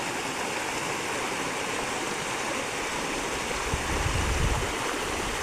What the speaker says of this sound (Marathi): दुसऱ्यांच्या रानातलं पाणी बघा आपल्या रानात किती शिरते